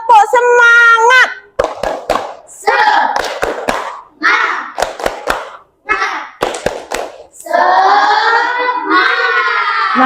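Elementary schoolchildren in a classroom do a rhythmic clapping chant, voices loud and close, chanting in bursts broken by sharp, tightly grouped hand claps in a set pattern.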